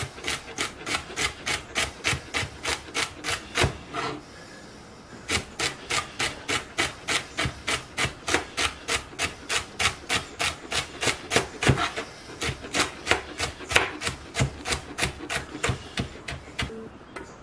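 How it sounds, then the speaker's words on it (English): Hearts of palm chopped steadily on a cutting board for a vegetarian lobster roll, a fast, even run of close, crisp knife taps with a brief pause partway through. "Okay, and then I can chop it up."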